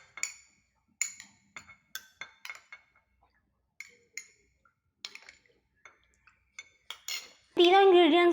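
Potato juice is spooned into a bowl for a homemade hair mask, with a series of small metallic clinks and taps of the spoon against the dish, spaced irregularly, then a brief burst of voice at the end.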